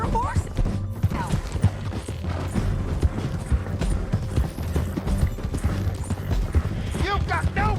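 Horse hooves clip-clop in a steady rhythm in Red Dead Redemption 2, running under tense voices and background game noise.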